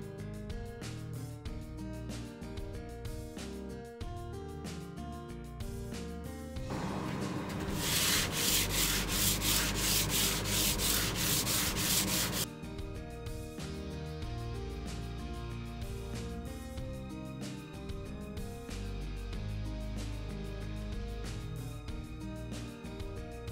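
A steady rubbing, scraping sound of sanding epoxy grain filler on a wooden guitar body, growing louder and rougher for several seconds in the middle before easing back, with no voices.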